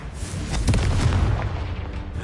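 A Confringo fire spell explodes in Hogwarts Legacy, a deep booming blast with a rumbling tail that stays loud across the whole short stretch, with no talking.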